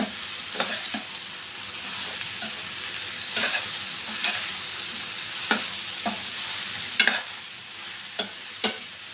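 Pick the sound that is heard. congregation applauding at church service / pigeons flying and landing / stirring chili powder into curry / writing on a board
stirring chili powder into curry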